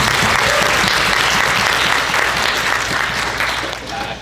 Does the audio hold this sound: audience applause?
yes